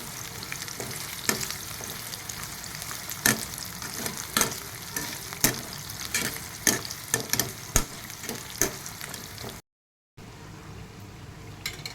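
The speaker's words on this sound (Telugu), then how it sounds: "ఆయిల్ వేడెక్కిన తర్వాత కాకరకాయ కాకరకాయలు ఇట్లా వేసి వేపుకోవాలి" Bitter gourd frying in hot oil, a dense crackling sizzle punctuated by sharp clicks and scrapes of stirring, close and steady until it cuts out briefly near the end.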